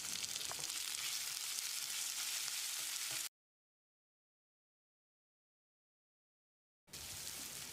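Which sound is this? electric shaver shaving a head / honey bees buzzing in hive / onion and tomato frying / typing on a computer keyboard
onion and tomato frying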